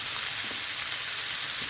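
Onion and bell pepper frying in a pan as cooking sauce goes in for sweet and sour chicken, a steady, dense hiss and sizzle that holds evenly throughout, close and unbroken with no voices.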